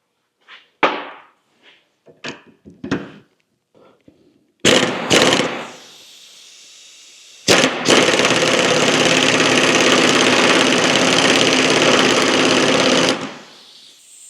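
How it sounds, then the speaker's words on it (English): A bearing being pulled off a differential carrier case half holding the crown gear during a Scout 800 restoration, beginning with a few sharp knocks and clanks, then a loud, steady whirring power-tool drone for about six seconds before stopping. "Now I will pull the bearing off the carrier case half that has the crown gear on it."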